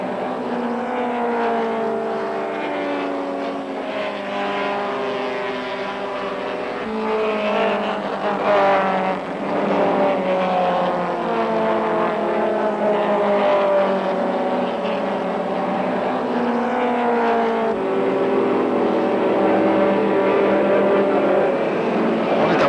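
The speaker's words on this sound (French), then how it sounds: "Ici, Clark sur sa Cortina face au Ford Galaxy." A Ford Cortina racing against a Ford Galaxie at the Crystal Palace circuit in 1964, their engines roaring loudly and continuously with rising and falling revs as they pass nearby.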